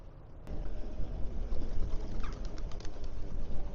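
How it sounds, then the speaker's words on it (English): A flock of birds, pigeons among them, scatters outdoors with soft wing flaps and a faint coo under a steady broadband rush of wind and ride noise. "My goodness, I just scattered all the birds there"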